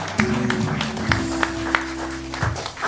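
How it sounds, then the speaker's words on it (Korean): A church congregation at a Korean worship service claps in thanks, sharp individual claps ringing out over a sustained musical tone, fairly close and moderately loud. "하나님 앞에 감사 박수 드리겠습니다."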